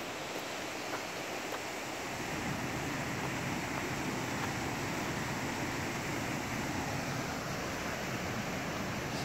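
An underground river rushes through a cave, giving a constant, broad roar of flowing water that swells slightly after the first seconds and carries on alone with no talking.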